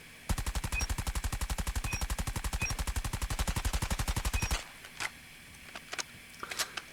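Rapid automatic gunfire from a gun in the video game CBR4, a loud sustained burst of evenly spaced shots lasting about four seconds, then a few sparse sharp clicks and taps.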